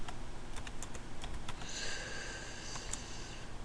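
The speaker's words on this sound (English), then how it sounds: "just keep typing" Quick keystrokes tap on a computer keyboard in short irregular bursts, faint and close, with a sniff partway through and no talking.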